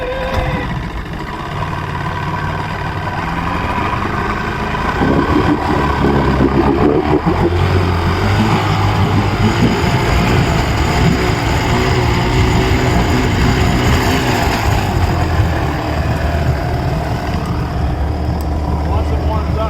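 A Johnson 90hp outboard engine cold-starts and runs, giving a steady, loud mechanical drone that continues for the whole stretch while a person talks over it.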